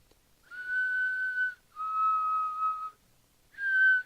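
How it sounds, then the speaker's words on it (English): Negan whistles a slow, clean three-note tune alone in near silence, each note long and sustained, the pitch dipping slightly on the second and rising again on the third, in a Walking Dead season 9 episode. "So we get the whistling."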